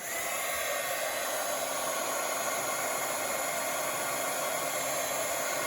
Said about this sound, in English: I'm going to have to put on my heat gun again.